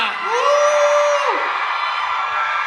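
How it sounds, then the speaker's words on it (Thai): A crowd screams and cheers loudly, with one shrill sustained shriek rising and falling above the din. "เอาเสียงกรี๊ดให้เขาหน่อยค่ะ"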